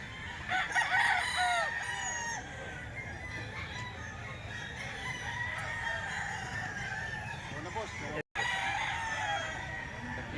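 Sweater breed gamecock, about 11 months old, crowing loudly with clucking throughout, close by on a farm, with faint voices mixed in.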